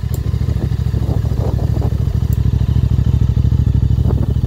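A QJ SRV 550 motorcycle with a 550 cc, 48 hp twin-cylinder engine idles nearby. It gives a loud, even, throbbing beat with slight mechanical clatter, alone without any voices.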